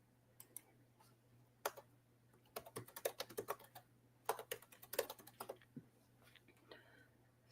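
Bursts of clicking keystrokes on a computer keyboard, irregular quick taps in clusters with brief pauses, close and fairly quiet, no talk.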